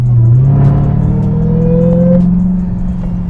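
A Dodge Hellcat's engine revs hard up close, a deep throaty roar that climbs in pitch and then holds a sustained high drone, loud and steady with no talking over it.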